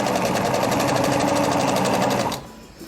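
A sewing machine runs a straight seam along the edge of a folded hem, a loud steady rapid stitching whir that stops abruptly near the end, leaving quiet.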